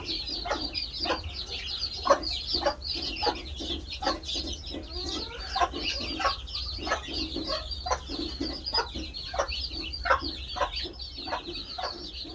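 Many newly hatched chicks cheep continuously on a farm, with clucking hen-like calls repeating in a steady rhythm against a low background hum.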